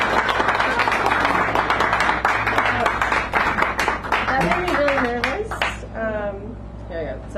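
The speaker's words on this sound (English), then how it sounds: "Bring her up here with a nice round of applause." Dense clapping from a small cafe audience at a poetry hour fills the first few seconds, then thins out as voices and chatter take over near the end.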